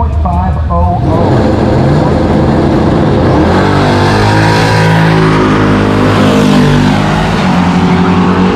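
Supercharged and nitrous Chevelle drag cars launching and racing down the strip at Lucas Oil Raceway during Drag Week, with a loud roaring engine surge that climbs through gears and a track announcer talking over it.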